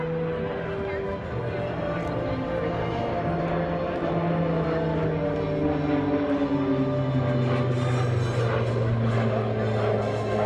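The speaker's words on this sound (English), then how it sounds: "Spins the aircraft all the way back down." Super Tucano turboprop aircraft spinning down toward the ground at a military airshow, a steady droning propeller tone with gliding pitch shifts, moderately loud and continuous throughout.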